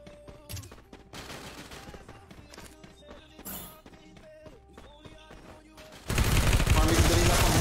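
Gunfire in an online shooter game sounds as rapid volleys of shots and sharp single cracks over a steady game soundscape, while a player talks throughout, and a loud, dense burst of noise closes the passage.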